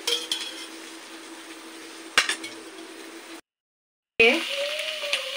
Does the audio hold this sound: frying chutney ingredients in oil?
yes